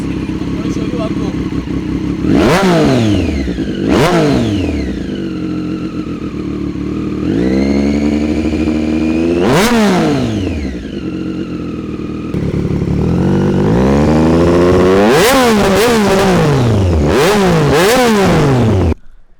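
A loud motorcycle engine revs hard several times, each blip rising and falling in pitch, with a steady idle rumble between and a fast burst of revs near the end.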